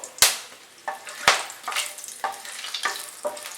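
Whole cardamom, cinnamon, clove and peppercorns crackle in hot oil, with sharp pops and spits breaking over a steady frying hiss, several loud bursts at irregular intervals, close by with no voices.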